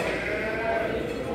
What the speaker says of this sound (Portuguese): Aqui já é outra raça de ovelha.